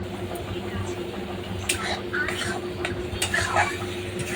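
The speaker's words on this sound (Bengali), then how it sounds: "তো এবার আমি একটু ভালো করে নেড়ে নিচ্ছি।" Spice paste fries in oil in a pan as a cook stirs it, giving a low constant sizzle with intermittent scraping and clinking of a utensil against the pan, fairly quiet.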